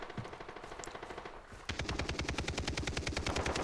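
Rapid gunfire in a Far Cry 3 multiplayer match, sharp evenly spaced shots in a fast steady rhythm, quieter at first and then louder and closer after a short pause, with no voices.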